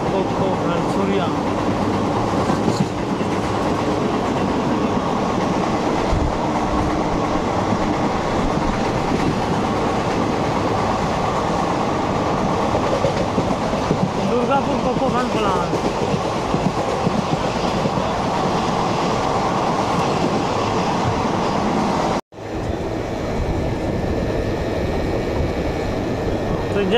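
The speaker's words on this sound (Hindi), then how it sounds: "दुर्गापुर रेलवे स्टेशन पहुंचने वाली है हमारी ब्लैक डायमंड एक्सप्रेस" Black Diamond superfast express train running on rails between Dhanbad and Howrah, a continuous loud rumble with rail clatter heard from on board, ending in a brief cut and quieter running.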